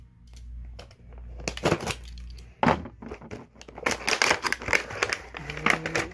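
Packaging for a NECA TMNT Foot Soldier figure is opened, with irregular plastic crinkles, clacks and thunks in bursts, close and fairly loud, with quieter pauses between.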